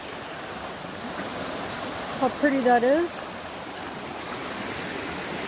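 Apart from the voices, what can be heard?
small river flowing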